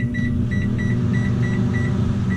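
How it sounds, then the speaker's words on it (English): A 900 watt microwave oven runs with a steady low hum and a short high tone that repeats at regular intervals over it. "But I have a 900 watt microwave"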